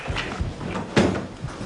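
A stiff indoor door is forced open with a few knocks, then a sharp louder thud and scrape, close and brief, with no talk.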